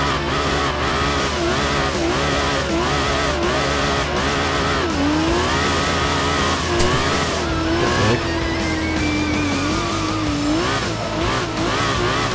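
A car drifts in Gran Turismo 4 on worn or wet tyres, its engine droning steadily at high revs with shifting pitch and a continuous tyre-squeal whine running throughout, loud and close.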